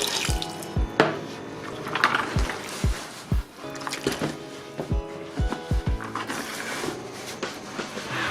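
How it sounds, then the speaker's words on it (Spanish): Water poured into a plaster-of-Paris mix for a carving block, a continuous close splashing trickle with scattered bright taps and clinks as it is stirred, no voices. "le echo un poco de agua"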